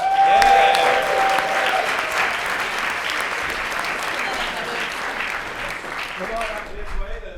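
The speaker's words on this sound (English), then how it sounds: "Let's give her a big round of applause." An improv theatre audience applauds steadily for several seconds, dense clapping that fades toward the end, with faint cheering over it.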